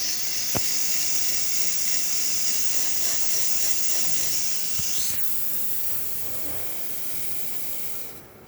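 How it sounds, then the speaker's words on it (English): A freshly tuned-up La Pavoni espresso machine's steam wand gives a strong, steady, close hiss that runs the whole time and eases off slightly near the end, with no one talking. "Nice strong steam."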